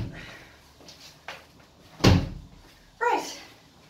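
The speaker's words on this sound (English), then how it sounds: "Hold on, I'm going to close the door for a second." An indoor door shuts with a solid close-up thump, followed by a second knock or latch sound, amid faint movement in a quiet room.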